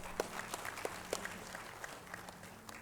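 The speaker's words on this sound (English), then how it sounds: "A big round of applause for ladies and gentlemen." An audience at a university AI conference inaugural session claps, a sparse scattering of distant, thin hand claps in a large hall.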